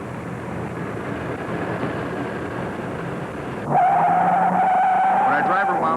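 A 1972 NASCAR race car with a detuned 455 cubic inch V8 and a 4-barrel Rochester carburetor accelerates hard. Steady rushing noise gives way to a sudden, loud, rising engine whine partway through.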